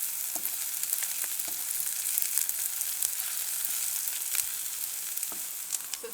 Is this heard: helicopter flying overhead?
no